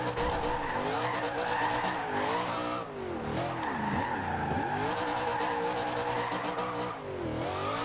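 A Camaro Z/28 drifts around a harbour in Forza Horizon 2, its engine revving steadily under a continuous loud tire squeal that wavers and dips briefly before resuming, with no voices.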